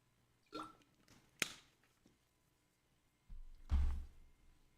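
A burp after a sip of kombucha, one low rumbling eructation near the end following a few small mouth and breath sounds, close and fairly quiet.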